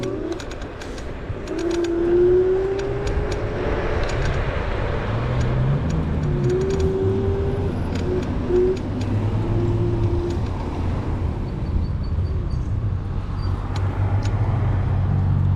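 Road traffic passes steadily, with car engines droning and swelling nearby, a continuous moderate rumble with no talk.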